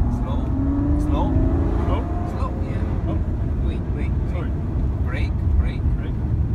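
A Ferrari FF's engine roars loud and steady under full power from inside the car, with speech running over the continuous engine noise.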